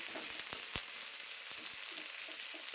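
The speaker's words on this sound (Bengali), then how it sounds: "পেঁয়াজটা দিয়ে একটু নেড়ে চেড়ে তারপরে ভাজা হয়ে গেলে শাকটা দেব" Onion frying in a pan, a steady bright sizzle that runs throughout with a few soft stirring knocks, fairly close and moderately loud, no voices.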